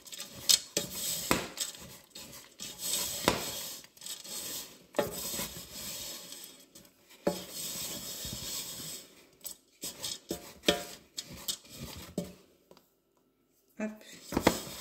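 Cereal bar ingredients are stirred together in a bowl, with repeated scraping and clinking of a utensil against the bowl in uneven bursts, separated by brief pauses.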